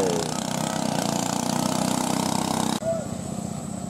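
A motor boat engine on a traditional Vietnamese boat runs at a steady idle-like chug, loud and close, with an abrupt shift in tone near the end as the boat moves off.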